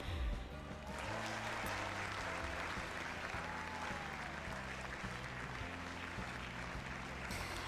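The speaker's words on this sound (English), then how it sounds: "applause breaks out around the room" Steady, dense applause from a crowd in the video game Not For Broadcast fills the whole stretch, with a faint musical backing underneath.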